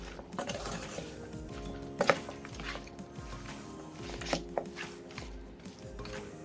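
Marinated gongura chicken pieces mixed by hand in a bowl, with soft wet squelches and occasional clinks against the bowl rim repeating at close range.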